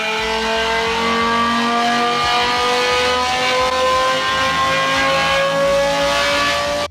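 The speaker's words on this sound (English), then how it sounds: "it sounds like an actual old school F1 car, just not with a crazy high red line" A video game car engine in the style of an old school F1 car, loud and steady as it revs without a very high redline, with strong harmonic tones slowly rising in pitch throughout.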